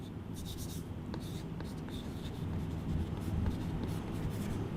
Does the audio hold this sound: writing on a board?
yes